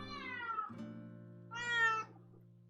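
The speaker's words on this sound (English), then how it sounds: "Let's get my kitty." A pet cat meows close by, giving two drawn-out, fairly quiet cries in quick succession, with no talk over them.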